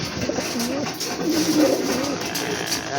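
Pigeons cooing close by, soft repeated low calls over a steady outdoor background with faint noise, no talk.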